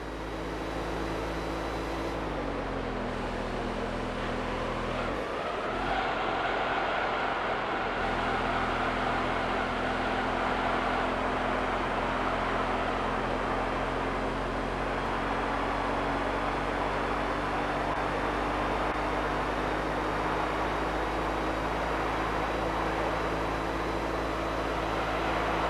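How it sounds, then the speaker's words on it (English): V8 Corvette engine in the racing game Gran Turismo 3, a steady buzzing drone with a thin four-cylinder character, holding a near-constant pitch with a brief dip early on, loud and continuous. "they decided to make the V8 Corvette with a notoriously intense rumble sound like a 4-cylinder"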